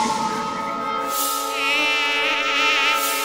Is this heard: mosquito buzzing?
yes